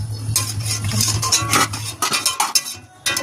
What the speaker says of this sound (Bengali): টক দইটা দিয়ে আরেকটু মশলাটা কষিয়ে নেবো